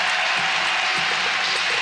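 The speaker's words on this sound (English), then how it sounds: "Crowd making some noise" Crowd in a basketball arena during an NCAA women's tournament first-round game between UT Arlington and Iowa State, roaring and clapping in a dense, continuous wall of noise.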